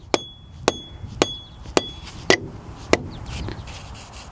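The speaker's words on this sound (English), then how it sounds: "a soft face hammer can come in handy, and simply tap the shank adapter" Six sharp, evenly spaced taps of a soft-faced hammer on a metal rock drill shank adapter, each a crisp knock with a quiet gap between.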